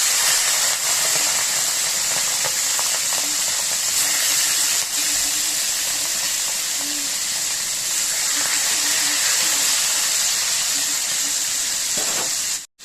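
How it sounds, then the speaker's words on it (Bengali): Loud, continuous hissing sizzle of salted, turmeric-rubbed fish frying in hot oil, steady throughout with no voices. "মাছগুলোকে ভেজে নেব"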